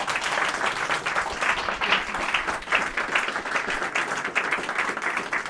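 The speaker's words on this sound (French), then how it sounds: "j'aimerais qu'on applaudisse chaleureusement, qu'on remercie Enza qui a organisé cette soirée" A crowd at an evening presentation of Conseil d'Etat candidates applauds warmly, with sustained, dense clapping that stays fairly loud throughout.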